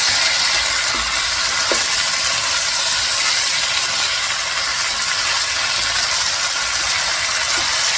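Chicken and broccoli stir fry with sesame oil sizzles steadily in a hot pan, a dense continuous frying hiss with faint scrapes of stirring and no talk.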